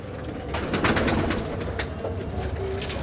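A Rampuri breed pigeon pair, male and female, cooing steadily close by amid a busy, noisy background of rustling and chatter, with no clear speech over it.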